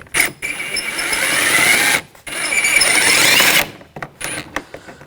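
A T30 socket backing a bolt out of a BMW X5 door, 2000–2006 model, during window regulator replacement: two sustained whirring tool runs of about two seconds each, close and loud, then a few faint clicks.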